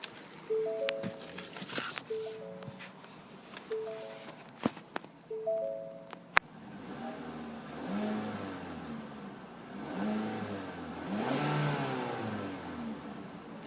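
Engine of a 2015 Ford Fusion SE revving up and down several times, heard close after footsteps and a few electronic chimes.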